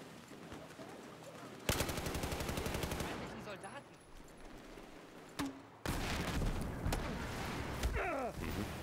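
Battlefield 4 multiplayer gunfire on the Guilin Peaks map, rapid automatic bursts cutting in loudly, pausing, then resuming as sustained fire with a few sharper single cracks; someone talks faintly in between.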